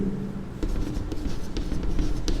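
Chalk or pen writing on a board during a commerce maths lesson, a steady scratchy texture with short strokes and taps across a few seconds, fairly close, no talking.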